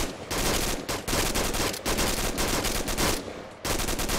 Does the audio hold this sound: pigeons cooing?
no